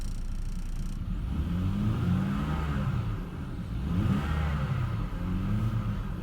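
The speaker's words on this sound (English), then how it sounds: "Revs up nice and smooth." A 2001 BMW 525i engine with about 128,000 miles revving at idle, a steady smooth mid-pitched drone that rises and falls in two gentle swells, heard close and alone.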